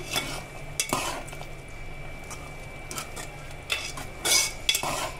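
Tomatoes being stirred in a curry pan for an Indian berakai (ridge gourd) curry, with intermittent scraping and clinking of a utensil against the pan over a faint background hum.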